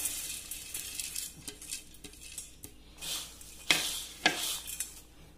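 Boondi droplets of batter fry in hot oil for a homemade Kerala-style mixture snack, a low continuous sizzle that swells into louder hissing bursts, with faint clinks of a utensil against the pan and no talking.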